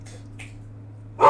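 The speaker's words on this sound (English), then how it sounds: "Ashton, stop barking." A dog named Ashton barks indoors: a couple of faint short yips, then one louder, sharper bark at the end over a low steady hum.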